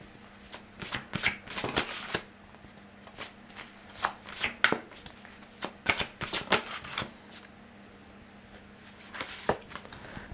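Tarot cards shuffled close by in quick, crisp riffling bursts with short gaps between them, steady and unaccompanied by speech.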